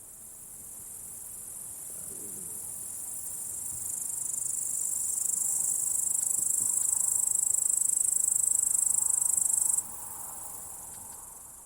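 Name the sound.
meadow soundscape recorded in the Altai Mountains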